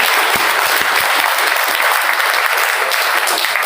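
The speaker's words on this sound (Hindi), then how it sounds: "मैं आपसे गुजारिश करता हूँ ममता बेनीवाल के नाम से सभी जोरदार तालियां बजाएं" A crowd at a college student union election event applauds loudly, with dense, continuous clapping that stays even from start to finish and has no voices over it.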